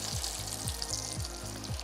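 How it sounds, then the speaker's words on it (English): Potato chips frying in hot fat, a steady bright sizzle throughout with a soft rhythmic low thumping underneath, close and moderately quiet, no voices. "Hear that lovely sizzle?"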